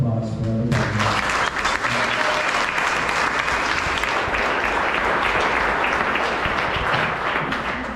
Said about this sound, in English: please join me in a round of applause for everybody